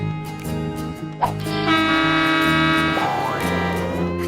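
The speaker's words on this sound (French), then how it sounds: "le conducteur du train a utilisé son gros klaxon." A loud, sustained horn blast with rich harmonics that shifts pitch partway through, like a big train horn sounding nearby.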